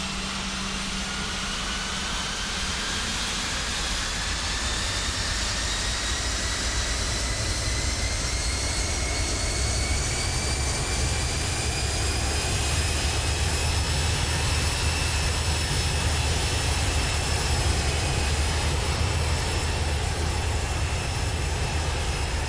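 Airbus A320neo jet engines in Microsoft Flight Simulator 2020 accelerating for takeoff, a loud continuous roar with rising whine tones steadily climbing in pitch, no voices over it.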